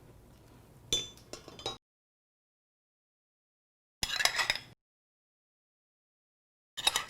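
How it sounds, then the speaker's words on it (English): A spoon scrapes rinsed quinoa into a cooking pot in three short bursts of metallic scraping and clinks, separated by silence. "So I'm just using my spoon to scrape my quinoa in"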